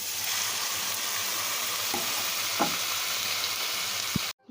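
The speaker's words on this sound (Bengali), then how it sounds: "দিয়ে ভালোভাবে একটু নাড়িয়ে নেব ভাজা ভাজা হয়ে গিয়েছে" Ingredients for khichuri, including moong dal, fry in a pot with a steady, close sizzle, while a utensil stirs and scrapes through them a couple of times; the sound cuts off abruptly at the end.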